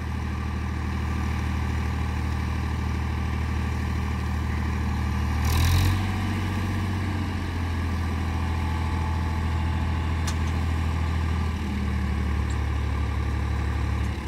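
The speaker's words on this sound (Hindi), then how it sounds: "आराम आराम से ट्रैक्टर उठा रहा है" A tractor steadily hums as it hydraulically raises a dumper trolley to tip out its load, with a brief surge in engine strain partway through and the engine otherwise holding an even, close, rumbling drone.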